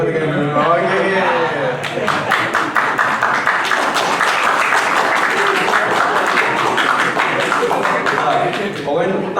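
A seminar audience claps in sharp, rapid bursts that are close and loud. The clapping is mixed with a speaker's voice and murmuring from the crowd, and continues unevenly throughout.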